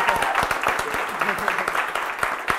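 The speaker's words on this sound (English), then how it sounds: "Give me a big round of applause." An audience at a live hotel event claps steadily in dense, close applause, with voices mixed in beneath the clapping.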